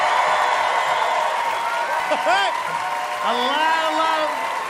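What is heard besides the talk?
audience cheering and applauding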